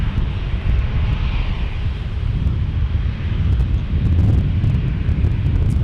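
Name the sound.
airplane passing at San Diego airport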